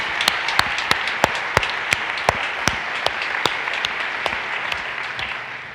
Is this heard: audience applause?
yes